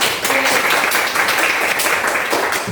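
Students in a classroom clap for a classmate's answer, giving a short, loud burst of group applause that runs evenly for a couple of seconds and then fades.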